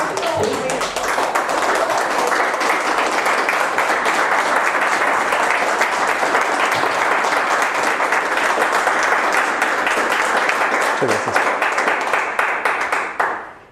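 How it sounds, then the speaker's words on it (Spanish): A large conference audience claps loudly and continuously after a lecture, the dense applause holding strong for over ten seconds before cutting off abruptly, with a few voices faintly mixed in. "que de verdad sea un aplauso fuerte por esta gran ponencia"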